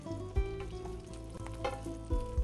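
Chicken pieces frying in a hot skillet, browning on their second side, give a steady dense sizzle with a few louder crackling bursts and light stirring noises, close and continuous with no talking.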